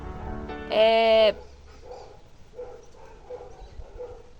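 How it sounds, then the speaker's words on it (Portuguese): A dog barks once in a loud, harmonic burst near the listener, followed by fainter, muffled vocal sounds in the background. "tem uns cachorros latindo ali, menina."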